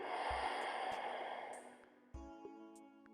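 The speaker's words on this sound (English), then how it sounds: "Exhaling out the nose." A single soft exhale out through the nose during a gentle yoga flow, a quiet close breathy puff followed by a second fainter breath, alone without talk.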